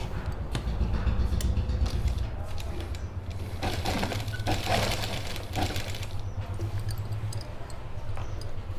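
Sewing machine stitching a pleat into suit fabric, a steady close mechanical run with a low motor hum throughout and brief pauses and handling clicks.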